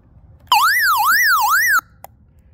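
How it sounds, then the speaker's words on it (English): The emergency siren of an XHDATA D-608WB portable radio wails, rising and falling in three smooth sweeps, loud and close, then cuts off abruptly, followed by a brief click. "it's got like an emergency siren"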